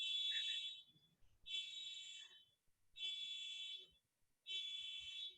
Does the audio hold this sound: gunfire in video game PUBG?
no